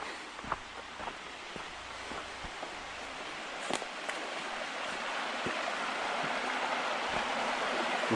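A river rushes steadily past a tent campground at Woodland Valley near Phoenicia, New York, its broad, even wash of water noise heard close and fairly soft, with a few light clicks and taps scattered over it.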